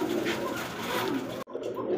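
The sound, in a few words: pigeons cooing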